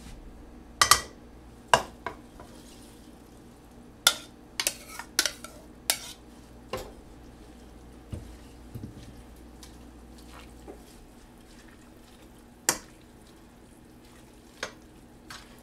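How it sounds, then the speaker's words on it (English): A spoon stirs kale into Zuppa Toscana soup inside a Ninja Foodi, with a low simmer underneath and sharp utensil clinks against the pot scattered irregularly, close up and alone. "We just stir the kale in until it wilts."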